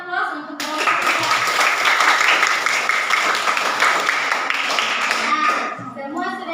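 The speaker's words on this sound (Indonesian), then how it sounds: "Kita berikan aplaus untuk kelompok 3." Classroom applause for a student group after their presentation, a dense burst of many hands clapping for several seconds, with voices heard before and after.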